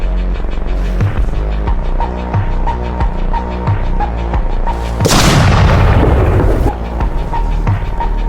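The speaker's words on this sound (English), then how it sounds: "Let's begin with a 250 lab bomb." A 250 lb bomb explodes on a house in the game Teardown: a loud, close, deep blast with a long rumbling roar over a steady pulsing background.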